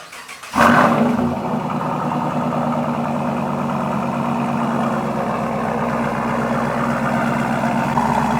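After a brief quiet moment, a car engine cranks and catches, then settles into a steady, rumbling idle that continues without talk.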